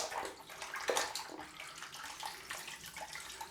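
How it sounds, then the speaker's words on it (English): A straight razor blade swished and rinsed in a bowl of water at a sink, with close, splashy sloshing bursts and small drips that rise and fall irregularly. "I wipe the blade off on the cloth and then I just rinse it in the bowl"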